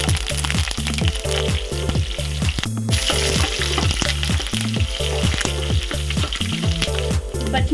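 Green chillies and curry leaves fry in hot oil for an egg masala curry, giving a loud, steady sizzle that runs the whole time with a rhythmic pulsing pattern underneath and no talking.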